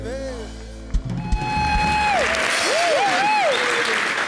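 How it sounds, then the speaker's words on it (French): Audience applause bursts out as a song ends on a French TV show, dense clapping with scattered cheers and whoops, close and loud, while a sung melody trails off underneath. "Merci de l'applaudir"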